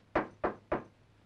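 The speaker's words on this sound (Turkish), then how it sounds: "Kapı çalınıyor" Three sharp knocks on a wooden door, evenly spaced and close, ringing out clearly over a quiet room in an old 1992 Turkish film scene.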